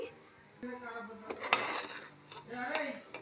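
Semolina and grated coconut stirred together in a metal pan for rava laddu, giving scraping and clinking of a spoon against the pan in short irregular strokes, close and fairly quiet.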